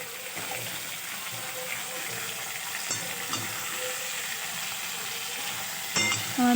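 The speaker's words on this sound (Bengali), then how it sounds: "এই মাছগুলো ভাজতে গেলে একটু গায়ে ছিটকে আসতে পারে" Kan fish, oiled beforehand, frying in hot oil in a pan half covered by a plate, giving a steady close sizzle throughout with a few brief clatters and a louder burst near the end.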